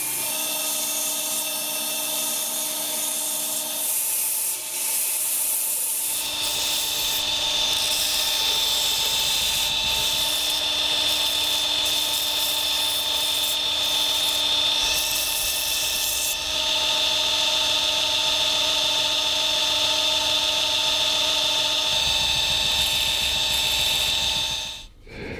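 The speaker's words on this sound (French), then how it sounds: "je vais passer avec la bande de 80 tout le tour du couteau pour faire des rayures de 80 dessus" An 80-grit belt sander grinds a wooden knife handle for a paring knife, a loud, steady high whine that runs continuously with small shifts in pitch as the workpiece is pressed and moved, with no talk.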